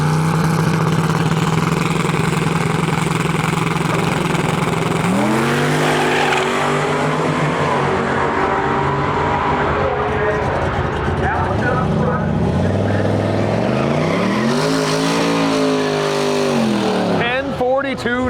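A turbocharged Chevrolet Silverado regular cab short-box pickup launches at a drag strip, with a loud sustained engine roar and repeated rising revs through gear changes. Crowd noise and talk run underneath the engine.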